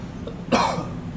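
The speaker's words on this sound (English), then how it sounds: "I've been trying to mute my mic when I cough" A single short, sharp cough breaks out near the microphone.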